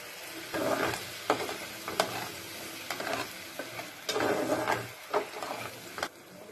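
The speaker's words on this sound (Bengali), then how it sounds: "এবার এর মধ্যে আমি কাজু আর দইয়ের যে পেস্টটা বানিয়ে রেখেছিলাম সেটা ঢেলে দিলাম।" Cashew and yogurt paste poured into a pan of spices with coriander, giving a soft sizzle and repeated stirring scrapes in an uneven rhythm, heard close and alone while cooking a malai soya chaap curry.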